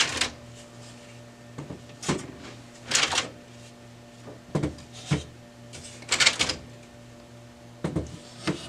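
Plastic clicks, knocks and scrapes sound close by as toner cartridges and drum units are pulled out of a Brother MFC-9125 laser printer, a series of short irregular handling noises over a quiet room hum.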